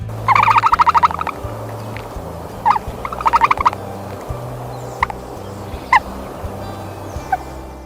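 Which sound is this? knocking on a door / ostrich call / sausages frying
ostrich call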